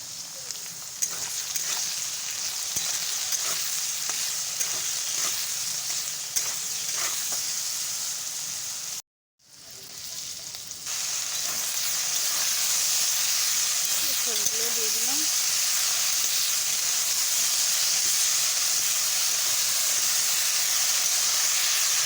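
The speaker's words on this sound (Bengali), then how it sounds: "কলাইয়ের ডাল আর চেরা লঙ্কা দিয়ে পটলগুলো একটু ভেজে নিচ্ছি" Pointed gourd frying with kalai dal and slit chillies in a pan, a steady close hiss and sizzle that runs throughout, dropping out briefly for a moment before returning just as strong.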